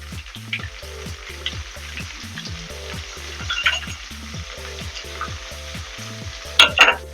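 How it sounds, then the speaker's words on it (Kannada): Tempering spices (oggarane) fry in a pan, making a continuous crackling sizzle over a regular pulsing mechanical hum, with a brief louder burst of spattering near the end. "ಒಗ್ಗರಣೆ ಬೇಯ್ತಾ ಇದೆ"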